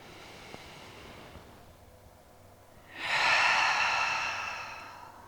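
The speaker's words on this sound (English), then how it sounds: "big exhale out of the mouth" A deep cleansing breath pushed out through the mouth during a trauma-informed yoga session: a soft broadband whoosh swells after a quiet stretch of faint breathing, holds for about two seconds, then tapers away, close and fairly loud.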